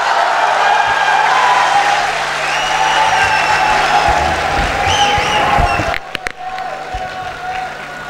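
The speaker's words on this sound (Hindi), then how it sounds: "भरपूर तालियों में इस्तकबाल कीजिएगा" Sustained, dense applause from a large audience fills a mushaira poetry gathering, loud and steady for several seconds before thinning into scattered claps.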